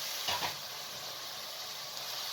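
Garlic and ginger sizzle in hot oil alongside mutton for a karahi, a steady soft frying hiss with a brief stirring clatter near the start.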